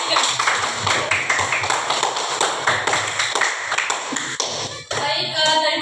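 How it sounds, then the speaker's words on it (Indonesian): Sixth-grade classroom applause for group 3, many pupils clapping rapidly and unevenly close by for several seconds, then fading into a brief lull and some scattered noise. "berikan aplaus untuk kelompok 3"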